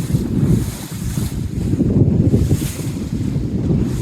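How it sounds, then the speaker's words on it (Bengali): Big Atlantic Ocean waves wash and rumble steadily around a yacht at sea, a loud, continuous churning roar mixed with gusting wind noise. "এই যে বিশাল বড় একটা ঢেউ আসলো"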